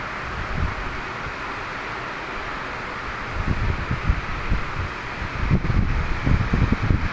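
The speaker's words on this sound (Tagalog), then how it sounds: "Kunting hangin lang naman." Wind blows steadily across the microphone, a constant rushing hiss with stronger low gusts buffeting in now and then.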